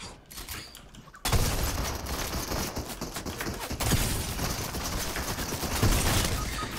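Dense bursts of rapid rifle gunfire in a video game crackle almost continuously after a quiet start, with a few heavier shots standing out.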